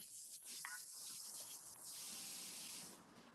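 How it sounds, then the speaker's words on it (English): Breakfast food frying in a pan, a steady broadband sizzle and hiss that runs throughout at low level, with no one speaking over it. "What you frying something?"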